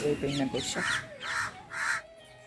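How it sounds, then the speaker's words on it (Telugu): Several crows caw loudly in a harsh, repeated series of about four calls spaced across a couple of seconds, with a person talking underneath the first part. "చిలకల గోల కన్నా కాకి గోలు"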